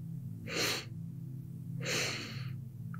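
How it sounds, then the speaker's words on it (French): Two distinct, audible inhalations are drawn through the nostrils in a guided yoga nidra breathing exercise. The breaths are close and airy, separated by a short pause, and come in a quiet setting. "Respiration en 2 temps par les narines."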